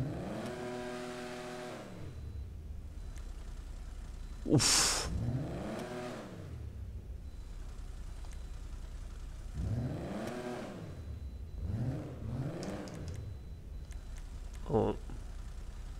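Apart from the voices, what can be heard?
Nissan 300ZX engine revving with custom exhaust, video game GTA Online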